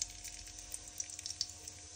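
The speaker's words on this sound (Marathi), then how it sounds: "नंतर थोडीशी मोहरी घालूत" Mustard seeds sizzle faintly in hot oil in a kadhai, with a soft, steady hiss and scattered small crackles and pops.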